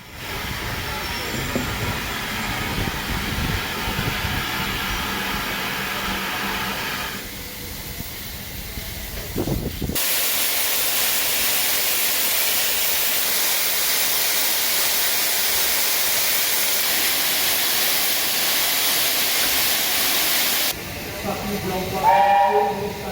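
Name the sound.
steam locomotive Leander, big express engine, hissing steam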